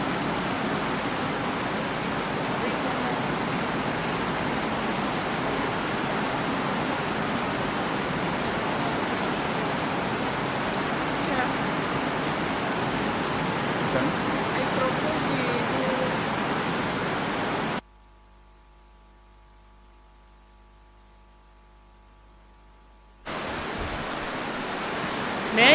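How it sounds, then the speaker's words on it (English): Heavy rain falls at an outdoor heads-of-state summit ceremony, a dense, steady hiss filling the air for most of the stretch, cutting out briefly to near silence before returning. No speech is heard over it. "I think we give the rain a few minutes."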